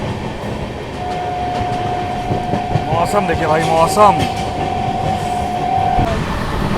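Amrit Bharat Express train running at speed, about 110 km/h, with loud steady rail rumble and clatter and a long sustained horn tone. Someone talks briefly over the noise.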